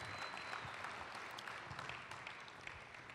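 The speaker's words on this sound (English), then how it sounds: "Another round of applause." Steady audience applause at an athletics hall of fame induction ceremony, a dense continuous wash of many hands clapping in a large room, heard at a distance and fairly soft throughout.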